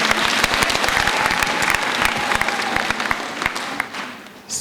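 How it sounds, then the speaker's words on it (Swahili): At a Catholic parish inauguration for coffee farmers, a crowd gives a young man a hearty round of applause, loud and continuous, fading slightly near the end. "Tumpike kijana makofi, asante"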